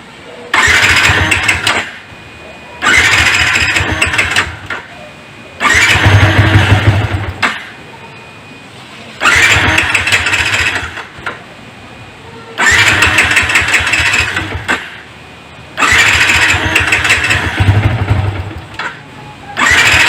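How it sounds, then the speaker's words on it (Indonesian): A Yamaha Vixion motorcycle that starts with difficulty cranks over in six separate loud bursts, each roughly two seconds of whirring starter and sputtering engine, broken by short silent pauses, heard close up. "Keadaan awalnya kita coba nyalakan mesinnya."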